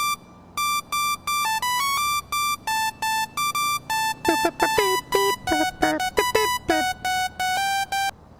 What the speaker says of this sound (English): My default ringtone appears to be some kind of old school rave banger.